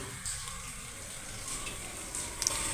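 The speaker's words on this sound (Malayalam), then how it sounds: "ചൂടാകുമ്പോൾ നമുക്ക് അതിനകത്തേക്ക് കുറച്ച് എണ്ണ ഒഴിക്കാം" Steady oil sizzling and crackling in a hot pan before cooking okra, a continuous hiss with a few sharper pops near the end.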